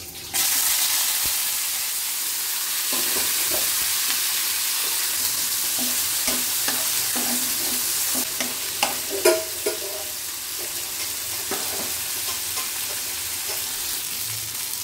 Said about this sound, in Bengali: এগুলোকে আগে আমি একটু তেলে ভাজবো